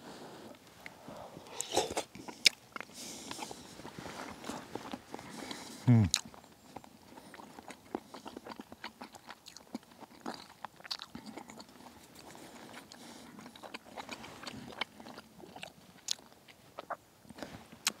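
Soft crunching bites and chewing of a spoonful of low-carb summer sausage stew with vegetables, close and intermittent, with a person talking between bites.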